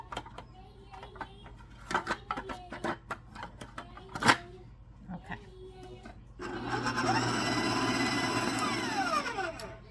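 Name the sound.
electric mixer mixing pizzelle cookie batter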